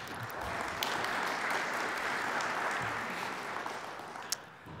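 Crowd applause at a campus student activities and events center dedication, a soft, steady roll of clapping from a distant audience that swells slightly, then eases toward the end with one sharp clap near the close.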